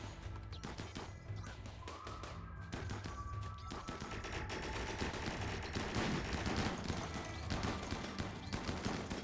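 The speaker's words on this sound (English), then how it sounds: "That is so many shots." Dense volleys of gunfire in the video game Rimworld, a rapid and continuous crackle of many shots, fairly faint and steady, with no talking.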